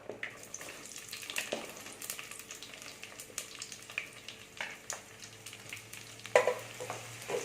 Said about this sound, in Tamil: நெய்யும் எண்ணெயும் சூடாயிருச்சு. 3 பெரிய வெங்காயம் நீளமாக கட் பண்ணி வச்சுருக்கேன்.